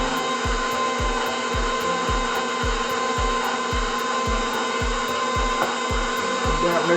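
An electric mixer churns muffin batter of softened butter and two eggs, a steady motor whine with a regular thumping beat roughly every half second as the beaters knock the bowl, continuous and fairly close.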